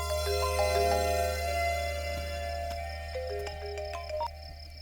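An electronic phone ringtone plays a steady melodic pattern of bright tones over a low hum, with no voices.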